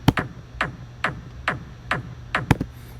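A punchy electronic kick drum hits in a steady, evenly spaced pattern, each thump with a sharp attack and short decay, loud and alone.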